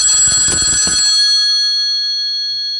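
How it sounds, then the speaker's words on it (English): A bell rings with bright, sustained metallic tones that start loud and decay gradually over about three seconds, the sound standing alone. "let's see how is the real sound of the word ringing"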